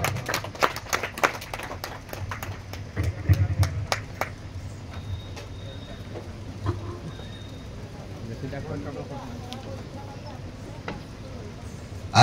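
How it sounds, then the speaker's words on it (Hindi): Audience applause welcoming a performer at a stage show, a burst of clapping in the first few seconds that thins out, with talk running beneath and continuing after. "करताली दे स्वागत करंतु"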